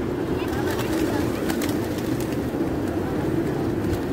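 Pigeons cooing in a steady, dense murmur as grain is scattered for them, a flock close by with a continuous low throaty babble and people talking intermittently nearby.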